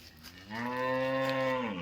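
A young water buffalo calf lets out a single drawn-out moo, close by and fairly loud, rising slightly before fading.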